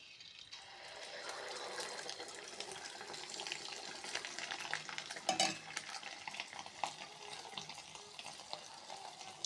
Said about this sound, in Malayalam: അപ്പോൾ എണ്ണ ചൂടായിട്ടുണ്ട്. നമുക്കതിലേക്ക് മാവ് ഒഴിച്ചിട്ട് വെളിച്ചെണ്ണപ്പം ഉണ്ടാക്കാം.